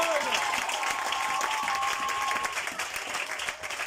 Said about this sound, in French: Est-ce qu'on peut acclamer pour l'évangile?